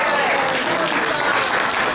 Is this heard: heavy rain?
no